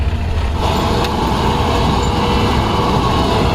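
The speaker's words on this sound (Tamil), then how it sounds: "இந்த டிராக்டர் எப்படி ரிவர்ஸ் ஓட்டணும் பாருங்கள்" Farm tractor with a sugarcane machine reversing, a loud, steady low engine drone and rumble running continuously without a break.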